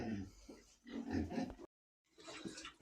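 Pigs grunt and oink inside a barn in a short, close, busy run of grunts that breaks off into a moment of silence before more grunting.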